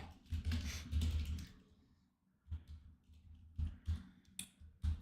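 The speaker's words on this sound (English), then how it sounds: "I'm typing like Trump right now." Quiet bursts of clicking keystrokes on a computer keyboard, an initial flurry of rapid typing followed by a pause and then a few scattered clusters of taps, close and soft with no talking.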